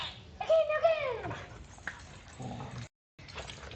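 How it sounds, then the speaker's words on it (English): Dogs fighting over the last dog biscuit: close, whining growls and whimpering yips rise and fall over a few seconds, with a moment of near silence before the scuffling resumes. "They're fighting over the last dog biscuit."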